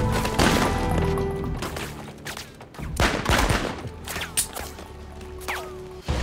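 Gunfire from a scene in the film The Gray Man, loud, dense shots and impacts layered over a heavy music score, with crashes and whacks that continue without a break.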